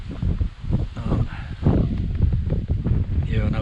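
Gusts of wind buffet an outdoor microphone during gold prospecting, making loud, irregular low rumbling and thumping that fills the whole clip.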